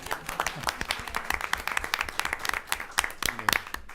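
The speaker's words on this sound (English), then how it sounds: "Oh, now we can clap." Audience members at a school board meeting clap in a scattered, uneven patter of individual hand claps, fairly close and moderately loud throughout.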